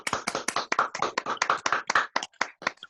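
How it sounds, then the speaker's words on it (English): Sparse clapping from a small online audience closing a Chamber Live presentation on leading through troubled times, a few distinct hand claps in an uneven rhythm that thins out toward the end, close and fairly quiet. "we'll give them a round of applause"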